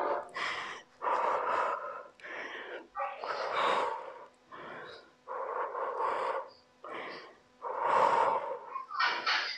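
Heavy, gasping breaths follow a HIIT home workout, coming in loud, close bursts of panting exhales and inhales roughly every second, with brief pauses between them.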